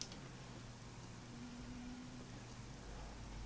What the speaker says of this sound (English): we're driving an LMP2 while it's raining